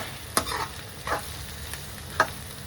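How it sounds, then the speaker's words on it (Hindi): Chillies stirred into amaranth greens bhurji in a pan, heard as three soft, separate scraping strokes with a faint sizzle beneath, quiet and close, with no talking. "सारी मिर्चें डाल दी हैं। इसको भी कर लेंगे अच्छे से मिक्स।"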